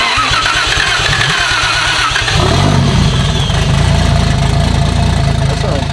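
A swapped Toyota 1JZ engine in a JZX100 cranks with a rapid starter chatter, then catches and fires into a loud, rough, throbbing run close by.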